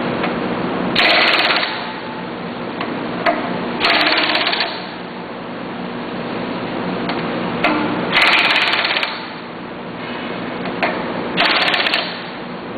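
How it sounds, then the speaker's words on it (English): Hold-down bolts being loosened on an FMC Syntron vibratory feeder: repeated bursts of harsh rattling mechanical noise, each lasting about a second, separated by quieter stretches of steady machine hum. "Now we can loosen the four hold down bolts."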